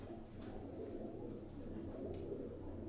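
Migratory tournament pigeons coo softly and repeatedly in a low murmur, faint and close, over a steady background hum.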